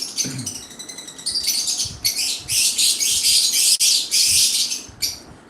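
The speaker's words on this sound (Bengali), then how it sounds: "আপনাদের এরকম পাখির আওয়াজ কেমন লাগে" Birds in a home aviary room, many high chirps and squawks in dense overlapping bursts, close and fairly loud, with no talking.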